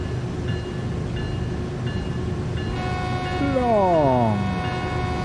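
An ES44 diesel locomotive horn in the Train Sim World 3 game on the Cajon route sounds a loud sustained chord that bends downward at the end, over steady rumbling train noise.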